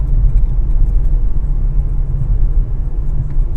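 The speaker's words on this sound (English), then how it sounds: "Sounds like a hydroelectric dam." Loud, continuous low roar like a hydroelectric dam, heard from behind trees during a severe-storm chase in Oklahoma, a steady broadband rumble with no pauses and no talking.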